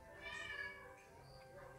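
A cat meows in a drawn-out, wavering call, faint and alone, ending with a small click.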